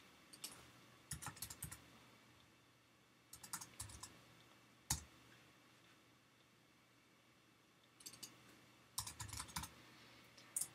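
Quiet keystrokes on a computer keyboard come in several short bursts of quick clicks separated by pauses, as a file name is typed while saving an image, close but soft, with no voices.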